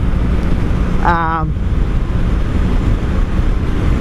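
A 1984 Honda V65 Sabre VF1100S motorcycle is ridden on a windy road, its engine drone buried in constant heavy wind buffeting at the microphone, with a brief tonal sound cutting through near the start.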